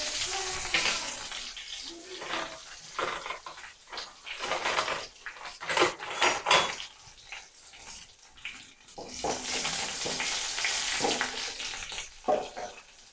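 Mustard seeds, cumin and three dried red chillies spluttering in hot oil as a tempering for Keezhakarai-style coconut milk rasam, a dense crackling sizzle with bursts of popping that swell and fade, no voices.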